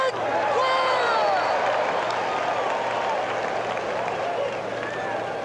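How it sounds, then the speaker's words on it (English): 1980 World Series ballpark crowd roaring and clapping at Kansas City, a broad steady swell of cheers and applause at a distance, with announcers talking over it. "Renard has this crowd stirred up."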